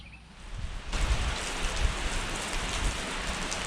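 Heavy tropical-storm rain pours down on and around a barn, starting abruptly about a second in and then holding as a steady, close, dense hiss with low rumbling beneath, with no voices.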